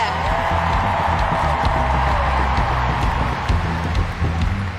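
A stadium crowd at a US women's national soccer team match against Mexico cheers and applauds during player introductions, a dense, continuous roar with whoops and scattered claps, fairly loud and unbroken.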